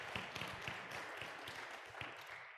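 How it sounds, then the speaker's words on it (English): Audience applauding panelists at an adult education forum on racial justice, a faint, distant round of scattered hand claps with a few sharper claps standing out, fading toward the end. "Please give these panelists a round of applause."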